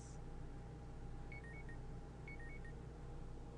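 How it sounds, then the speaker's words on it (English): A phone notification chime sounds twice, each a short burst of three or four quick electronic beeps, faint over a steady low hum in a quiet room with no talking. "Yes, that was my phone."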